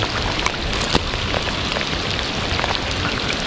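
Steady rain pours onto surfaces outdoors with dense hiss and scattered drop ticks, loud and continuous with no voices.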